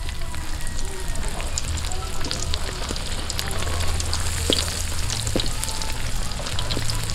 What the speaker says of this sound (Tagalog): Unang-una, magpainit ng mantika. Tapos prito na natin itong tuyo.